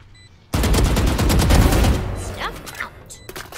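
Rapid bursts of gunfire from the tactical shooter game Valorant, loud and dense for over a second before thinning into scattered shots and ricochet-like sweeps, with a player's voice faintly underneath.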